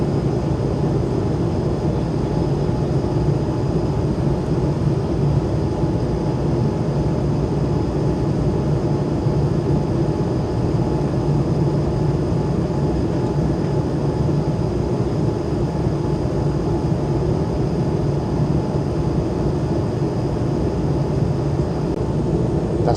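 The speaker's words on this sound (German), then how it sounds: "Ist ja richtig leise, das kleine Flugzeug." Steady, broadband roar inside an Airbus A220-300 cabin during climb, a constant low rumble and airflow hiss with no variation throughout, no voices.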